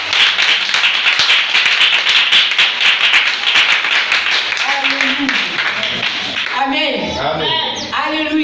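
A church congregation claps loudly in dense, steady applause to acclaim the Lord, then the clapping thins out as a voice comes in near the end.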